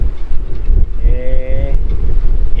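Strong gusting wind buffets the microphone outdoors by the sea, a loud, continuous low rumble with a brief tonal hum partway through and no talk.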